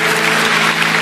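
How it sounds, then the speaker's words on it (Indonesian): Church congregation applauding, a dense, loud, continuous wash of many hands clapping together throughout the brief moment. "kita kasih tepuk tangan untuk Tuhan"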